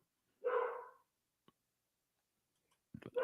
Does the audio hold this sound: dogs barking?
yes